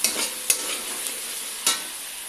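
Cauliflower roast masala fries in oil with a soft continuous sizzle, and a few sharp spatula scrapes stand out as it is stirred close by.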